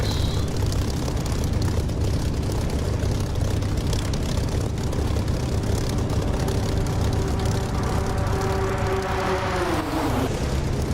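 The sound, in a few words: low aircraft flyby in DCS flight simulator video game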